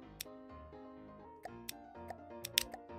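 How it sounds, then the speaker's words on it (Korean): Sharp clicks of puzzle pieces snapping into place in an online puzzle game, several crisp separate ticks over soft background music, with one louder click near the end. "맞았다 아이가 봤나 찰칵하고 소리 났다 아이가."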